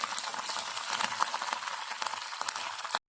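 Mustard seeds spluttering in hot oil with urad dal and a broken dried red chilli, a dense run of sharp crackles and pops for about three seconds, close and fairly soft, with no talking.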